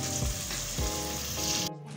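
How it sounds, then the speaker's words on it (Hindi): Crushed roasted cumin and coriander go into a chicken gravy that sizzles steadily and close, with two or three soft stirring thumps before the sound cuts off. "जीरा और धनिया जो हमने भून के और कूट के रखा था वो इस पर डालेंगे।"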